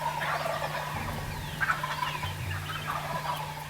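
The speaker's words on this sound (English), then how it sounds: "already we could see turkeys on the roost" Wild turkeys gobble from their roost in the early morning, several fairly distant gobbles rolling out over a steady low hum with no one speaking.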